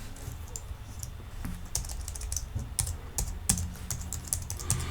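Quick, irregular clicking of typing on a computer keyboard while entering data into project scheduling software, close and crisp with no talk.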